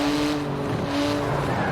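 Twin-turbo 3.8-litre flat-six sports car of 700 horsepower driven in Forza Horizon 4, a steady sustained engine drone with a tire-squeal edge, loud and continuous with no talk.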